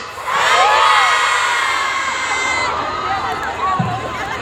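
A concert crowd in Banda Aceh shouts a band's name in unison, a loud burst of many voices and cheering that fades into scattered shouts and chatter.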